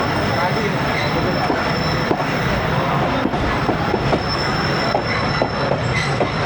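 Riding aboard the Awam Express passenger train in Pakistan, wheels roll and squeal on the rails with rhythmic clicks over joints, a steady rumble close around, with a voice talking over it.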